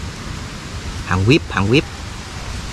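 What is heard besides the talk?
rainstorm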